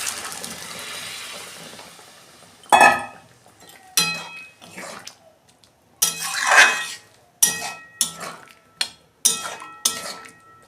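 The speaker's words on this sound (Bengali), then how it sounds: "এই যে মটরটা দিয়ে দিচ্ছি।" Peas added to a pan for meatless ghugni make a run of separate clattering pours and metallic clinks, each short and sharp, with quiet gaps between them.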